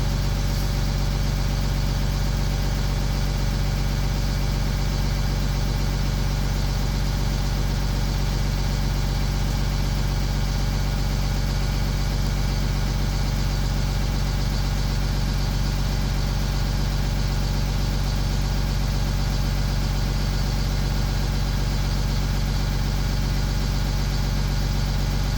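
A school bus engine idles steadily and continuously during a pre-trip inspection, a close, even low rumble with a constant tone and no change across the whole stretch.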